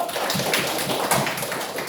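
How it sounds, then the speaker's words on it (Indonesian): Students in a classroom applaud a group of classmates who have just answered a question, a dense patter of hand claps filling the room steadily for a couple of seconds without any talking. "Beri tepuk tangan dulu."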